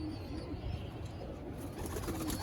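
Desi Giribaz pigeons kept indoors in a home loft coo softly in low, rolling murmurs, close by and continuous over a steady background hum.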